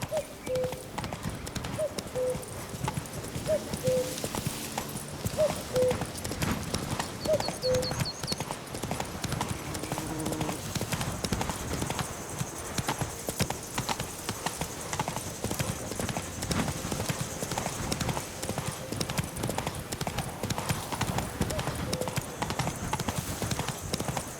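Horse hooves clip-clop in The Witcher 3 video game in a steady, continuous trot throughout. Game ambience and a brief whinny sit under the hoofbeats.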